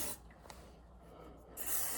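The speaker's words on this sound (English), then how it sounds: "give it a little spritz" Hairspray aerosol spritzed onto long hair at the roots, a short soft hiss near the start and then a longer, louder close burst of spray at the end.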